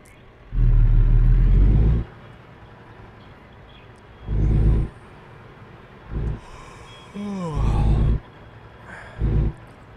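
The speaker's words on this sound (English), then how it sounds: "Let's fire up the engine." A truck engine in a driving video game rumbles in several low bursts, swelling and dropping like revs, with a rising whine near the middle and quiet idle between.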